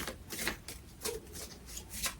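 Two playing cards are shuffled by hand in a quiet room, giving a series of soft, rapid papery riffles in irregular bursts, close and faint, with no talking.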